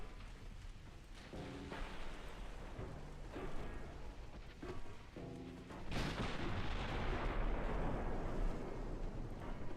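Naval guns firing from warships in a 1930s German campaign of Ultimate Admiral Dreadnoughts, heavy booming salvos rolling out at intervals over a constant rumbling sea-battle backdrop, growing louder and denser in the second half.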